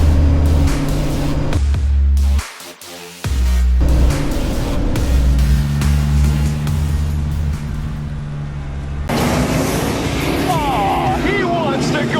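A tuned Polaris Ranger 1500 side-by-side engine roars loudly while driving, briefly cutting out and then revving back up, with voices talking over it later.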